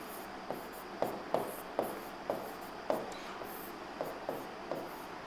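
A marker or chalk writes on a board during a current-affairs lecture, making short, evenly spaced strokes and taps about once every half second. The sounds are moderately close and come in a quiet room without talking.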